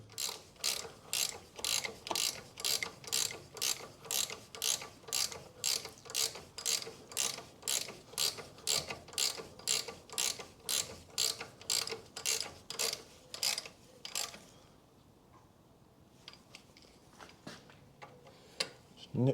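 A ratchet clicks in steady rapid bursts while bolts are nipped up during a front brake disc and pad replacement on a 2005 Skoda Fabia 1.2 petrol, about two dozen strokes, close and clear, then stopping.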